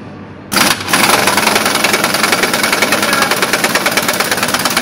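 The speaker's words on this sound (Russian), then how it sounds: "Сейчас будем делать обтяжку болтов." A pneumatic wrench tightens bolts on a TEP70 diesel locomotive's traction motor during a wheelset change. After a short lead-in it starts suddenly into a loud, steady, rapidly pulsing rattling drone that holds for several seconds.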